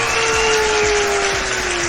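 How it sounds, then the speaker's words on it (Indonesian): Applause for Vina in an Indonesian talk show studio, a dense continuous wash of clapping lasting about two seconds under a faint tonal hum. "Ayo, tepuk tangan gemuruh untuk Vina."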